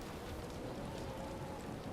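Stormy weather at sea in the pirate game Skull and Bones, a steady dense hiss of heavy rain with a low rumbling thunder undertone, constant and unbroken with no voices.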